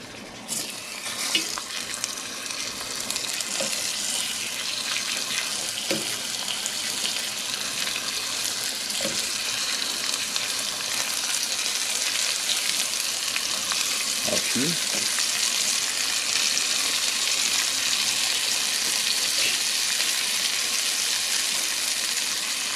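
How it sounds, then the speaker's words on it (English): Onions frying in a pan, a steady, close hiss of sizzling oil running throughout, with a few soft knocks and stirring scrapes breaking through. "Add our onions. These onions will cook up quickly."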